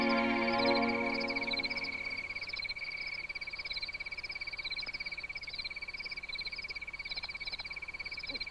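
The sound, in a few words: frogs croaking in Grand Canyon after rain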